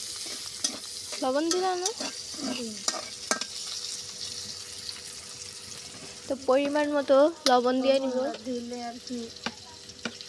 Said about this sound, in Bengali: তেল দিয়ে নিছে, এখন পেঁয়াজ দিয়ে দিতেছে।